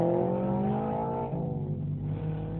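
A tuned Honda Civic Type R with a KTUNER Stage 1 tune on worn stock OEM tires runs an autocross lap, its engine holding a steady, loud rising drone that shifts pitch partway through, with no talk over it.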